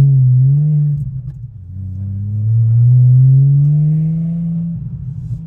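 A car engine revs loudly through a stainless steel X-pipe exhaust, a deep, close rumble that dips then swells into a sustained rising drone before easing off, with no talk over it.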